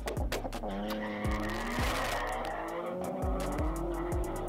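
A Peugeot 205 turbo racing against other cars, engine revving hard through repeated rising gear pulls, with tires squealing and skidding close by, loud and continuous.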